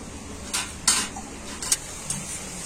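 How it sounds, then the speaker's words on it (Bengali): A pot of chicken curry with potatoes is stirred and then covered with its lid, producing a few soft metallic clinks and scrapes close by, with a louder clank as the lid settles. "একবার আমি নাড়াচাড়া করে আবার আমি ঢাকা দিয়ে দিচ্ছি"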